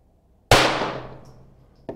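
A single sharp pistol shot cracks at a shooting range and rings out in a long, fading echo, followed by a short metallic clack near the end.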